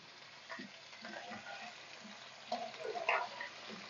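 One kilo of bone-in chicken fries in a cup of hot oil, a faint, patchy sizzle with stirring clatter that grows busier near the end.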